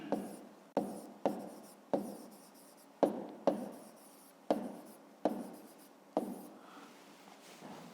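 A pen writes on paper in a series of short, quiet scratching strokes, each starting with a soft tap, recorded close and with no voices.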